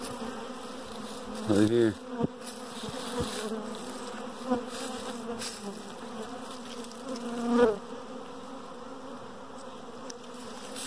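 A swarm of honeybees hums around a tree at a bee yard with splits, a constant dense buzz with individual bees swelling louder as they pass close, while a voice speaks briefly.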